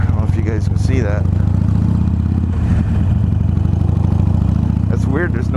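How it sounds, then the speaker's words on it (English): A loud Harley-Davidson Sportster motorcycle engine rumbles steadily throughout, with a deep low throb and a brief rev near the start, while a voice talks over it. "it wears you out listening to a loud ass motorcycle or riding a loud motorcycle"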